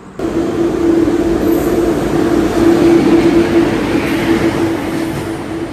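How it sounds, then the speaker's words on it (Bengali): A through train rolls past platform 4 at Bauria station, a loud, sustained rumbling roar with a steady tonal hum that swells and then eases slightly as it passes. "আর 4 নম্বর দিয়ে ঢুকছে দেখুন একটা থ্রু ট্রেন"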